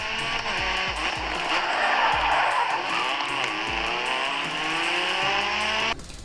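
Cars racing in the video game Grid: engines roar and rev in repeated gear-change sweeps while tires squeal in long skids, loud and continuous until the sound cuts out near the end.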